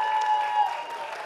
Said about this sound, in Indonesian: Tepuk tangan yang meriah buat Anda semua.